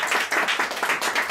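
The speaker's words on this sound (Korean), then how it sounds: "박수." A small group at a morning sales meeting claps briefly, a short burst of rhythmic, fairly quiet clapping lasting just over a second.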